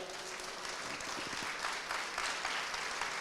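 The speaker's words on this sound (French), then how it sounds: "Je pense que vous pouvez les applaudir" Audience applause fills a pastry show hall after two organisers are introduced, a dense, steady wash of clapping held at an even level for its whole length.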